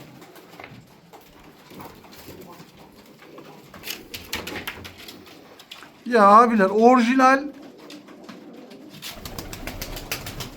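Sabuni pigeons coo in a brief loud burst amid faint background noise, with someone talking nearby before and after.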